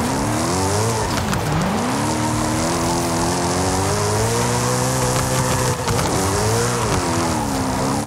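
A rally car in Forza Horizon 5 drifts with anti-lag pops. Its engine howls loud and continuous, the pitch swinging up and down with bursts of crackle and no talking.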